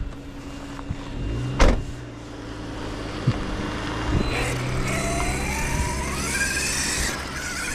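An ARRMA Dirt Rat RC car with paddle tires runs along continuously, its electric motor giving a steady whine that rises and sweeps in pitch, with a sharp thump near the start and scattered knocks from the terrain.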